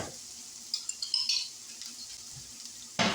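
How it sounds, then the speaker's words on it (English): Vegetables sautéing in a pan, heard as a quiet, brief sizzle with a few light scrapes and a sharper stir near the end. "So we'll just saute these for a few minutes"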